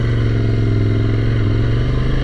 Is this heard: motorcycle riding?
yes